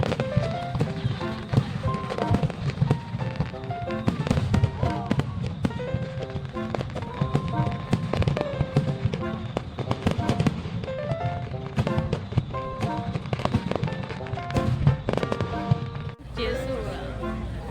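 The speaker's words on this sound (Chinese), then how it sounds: "第一次来这里看烟火" A fireworks display at Dadaocheng fills the air with dense, continuous bangs and crackling bursts, loud and close throughout, with voices of onlookers beneath and a short lull near the end.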